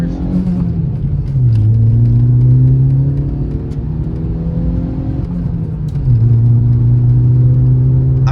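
MK4 VW Golf on fresh coilovers driving and shifting gears, a close interior engine rumble rising in pitch, dropping at each gear change around two and six seconds, then climbing again, no speech.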